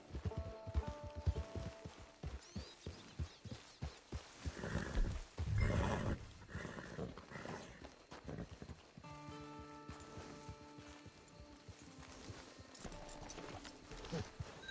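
Horse hooves clip-clop in a steady rhythm in Red Dead Redemption 2, with a snort or whinny partway through, set against game music and ambient sound.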